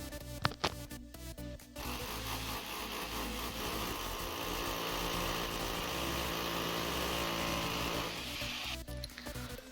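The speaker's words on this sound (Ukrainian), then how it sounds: "Отже, починаємо сверлити отвори." Power drill boring holes for plastic wall plugs while mounting stair stringers in a house, a loud continuous whirring grind for several seconds with brief knocks and handling noise at the start and end.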